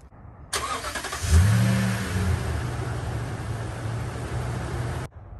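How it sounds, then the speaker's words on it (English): A 2021 Toyota Tundra Platinum engine remote-starts from the key fob: a brief cranking whir, then the engine catches with a loud rev and settles into a steady low idle until the sound cuts off. "the engine will do a remote start."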